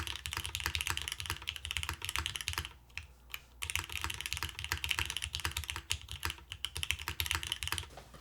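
Typing on a Class 100 mechanical keyboard with a top mount installed and granite keycaps, a dense run of loud, close clacking keystrokes with a brief pause near the middle before the rapid typing resumes.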